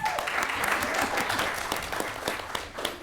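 School board meeting audience applauding and cheering steadily throughout, a dense, sustained wash of clapping with a few louder bursts near the end.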